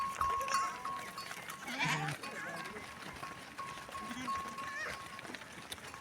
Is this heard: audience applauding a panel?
no